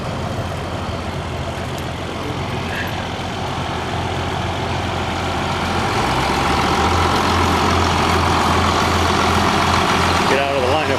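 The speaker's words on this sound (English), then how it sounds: "we got a nice 1066 sitting here burbling away" An International Harvester 1066 tractor idles at a Red Power Round Up show, a loud steady low burble that thickens and grows slightly louder partway through, with people talking nearby.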